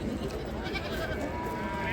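Sheep with lambs at the Ganja livestock market bleat over a dense background of crowd chatter and market noise, with the calls close and mixed into the general din.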